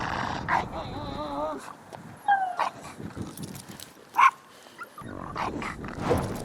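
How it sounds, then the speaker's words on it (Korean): An agitated American Bully dog barks and yips in short, uneven bursts, with whimpering between them, while people talk nearby. "이제 짖는다."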